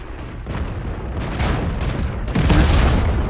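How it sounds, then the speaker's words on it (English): Tank cannon fire in World of Tanks: several deep booming shots and explosions, loud and close, one after another with rumbling tails. "did you just get shot by Adi, or...?"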